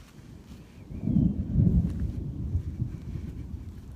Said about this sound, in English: Oh, that's some scary thunder, huh?